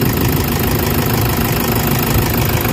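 A Toyota engine idles steadily throughout, a dense, continuous low rumble with a faint knocking texture and vibration, loud and close with no talking.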